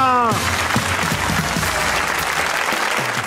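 A television comedy show's studio audience bursts into dense, loud applause that carries steadily throughout, with the host's voice briefly heard at the start.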